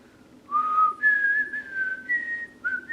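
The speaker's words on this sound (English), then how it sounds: "Yes, I can whistle." A single person whistles a short wavering melody of a few sustained, sliding notes, clear and close with no talking.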